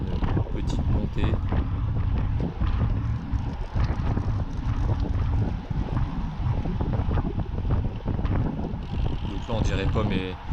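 Strong gusty wind during a race at Ploegsteert, Belgium, buffets the microphone in heavy, continuous rumbling bursts, with some background noise underneath.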